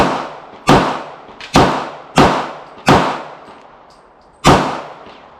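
Five sharp pistol shots from a Smith & Wesson SD40VE .40 caliber handgun, fired at an uneven pace with a short gap before the last, each crack loud and close with a brief decaying tail.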